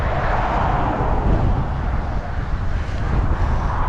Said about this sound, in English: It is windy as hell.